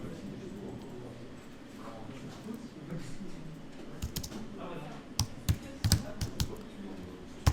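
Keyboard typing while laying out a page in Adobe InDesign, a few quiet keystrokes at first, then a cluster of sharper clicks and taps near the end over a low room hum.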